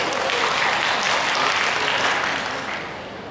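A classroom audience applauds loudly and steadily for a few seconds, then the clapping begins to fade.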